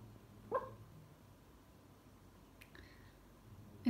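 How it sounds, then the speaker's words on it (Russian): A sleeping Shih Tzu gives a few faint, muffled yips and soft barks in a quiet indoor room, one short burst near the start and weak sounds later. "это она гавкает так во сне"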